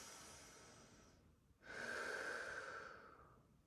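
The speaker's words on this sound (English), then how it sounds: "Take one full breath here." A yoga practitioner takes one full breath while holding a shoulder-opening stretch: a soft, drawn-out airy exhale, then a pause and a longer, stronger breath, close and quiet.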